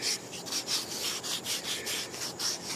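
Sandpaper rubs over a homemade tombstone cake decoration in quick, steady back-and-forth strokes, about four per second, with a close, dry, even hiss and no voices.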